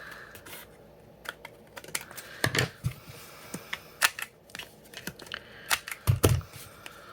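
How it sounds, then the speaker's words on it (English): A handheld corner rounder punch clicks through 12x12 craft paper corners, a series of sharp close snaps and clacks with small handling rustles between them, no talking. "I'll just use my corner rounder to round those corners"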